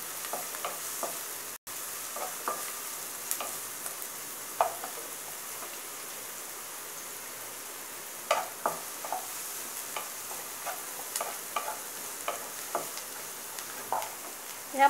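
Onion frying until crisp in a pan for Malvani prawn masala, a steady close sizzle broken by scattered clicks and scrapes of stirring, with one sharp knock early on and no talking.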